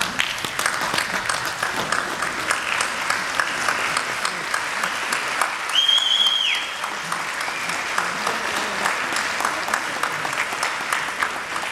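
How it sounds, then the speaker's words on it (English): Sustained audience applause fills a graduation ceremony, steady and dense from start to finish, with a brief high whistle-like tone rising partway through. "would you please stand with me as we express our gratitude to our loved ones by way of applause"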